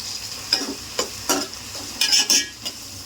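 Small onions sizzle in hot oil for a country chicken curry, with a few sharp stirring scrapes of a spoon in the pan over a steady crackle, close and fairly loud, no voices.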